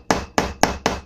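A hammer strikes a male and female rivet fastener on a picture frame, four sharp, evenly spaced taps in quick succession, close and clear with nothing else heard.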